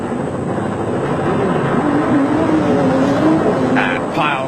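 Onboard engine of a championship-winning South African Nissan Hardbody off-road race truck, loud and steady with the revs rising and falling, recorded during a 2003 off-road race.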